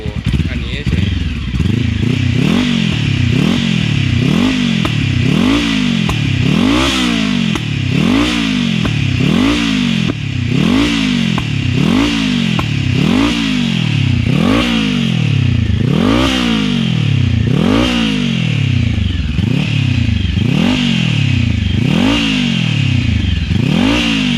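A turbocharged Honda CBR500 motorcycle engine, recently retuned, revs repeatedly in close rhythmic bursts, each rise and fall of pitch following quickly on the last, loud and close throughout.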